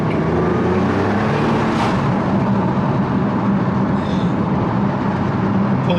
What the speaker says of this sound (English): next up, the R35 GTR.